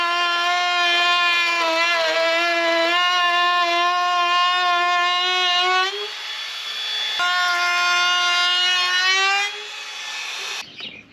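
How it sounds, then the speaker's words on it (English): A power tool whines with a high, rising pitch, running continuously, briefly dropping and then spinning up again before cutting off at the end. "Can you guys hear those power tools in the background?"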